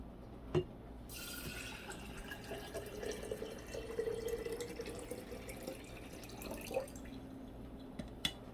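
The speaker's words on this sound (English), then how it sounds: "we're gonna add our water" Water poured into a jar holding crushed water beads for a jelly air freshener: a faint, steady trickling stream with light splashing, preceded and followed by a few soft taps, quiet and close.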